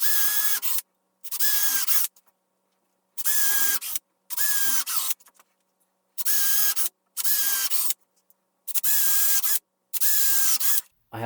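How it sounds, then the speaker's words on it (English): A power drill pre-drills holes in a wooden table saw fence in repeated short bursts, about nine whirring runs each a second or less, with distinct pauses of silence between them, close and fairly loud. "So then I'll be able to pre-drill the other holes."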